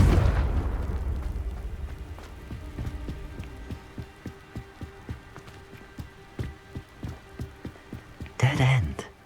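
Confringo and Incendio spell blasts in the Hogwarts Legacy video game: a steady series of sharp popping bursts and crackles, closing with a louder blast, over low game ambience.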